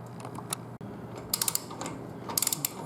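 A torque wrench ratchets in short clicking bursts while tightening the front wheel axle of a 2001 Triumph Bonneville, close and crisp, with several quick click clusters separated by pauses.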